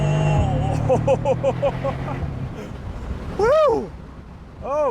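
Mercedes-Benz AMG SL63 engine at full throttle, roaring and rising in pitch through quick shifts, then surging again twice in loud revving bursts, with excited shouts from the driver.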